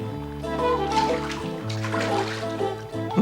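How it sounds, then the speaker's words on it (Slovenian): A cartoon dog splashing in the water at a beach, heard as soft splashes and sloshing mixed with a bright, sustained musical score. "Nato je čofotal po vodi."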